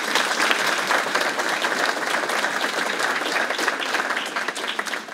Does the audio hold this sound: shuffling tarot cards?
no